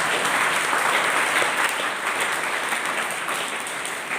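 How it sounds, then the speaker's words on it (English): A crowd at a school investiture and oath-taking ceremony breaks into dense, sustained applause, many hands clapping together loudly and steadily throughout, easing only slightly toward the end. "Let us all together clap a big round of applause for them."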